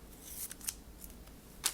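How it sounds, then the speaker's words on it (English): Sticky scissors snip through tape in a few quick, close, crisp cuts over less than two seconds, with a final sharp snip at the end; quiet room, no talking. "And I'm going to use my sticky scissors"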